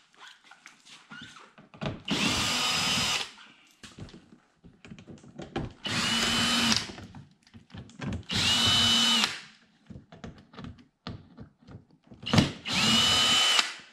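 A cordless power drill backs screws out of aero parts on a C7 Corvette, four separate whirring bursts of one to two seconds each, close and loud, with quiet handling clatter of parts between them.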